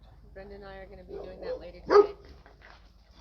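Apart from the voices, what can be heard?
dog barking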